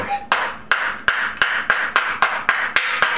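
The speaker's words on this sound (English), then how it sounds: "So take my block of wood and a hammer." A hammer strikes a wooden block in a steady rhythm, about eight sharp, loud knocks spaced roughly evenly, close up with no talking, while fitting bearings on a 1973 Honda CB750 motorcycle.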